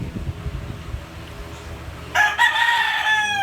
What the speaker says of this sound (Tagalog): panay ang tilaok ng ating mga manok dito sa kapitbahay.